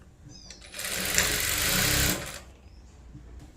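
A sewing machine stitching tucks into blouse fabric for a four-tuck blouse runs in one fast, loud, even burst of about a second and a half, then stops, leaving quiet room tone.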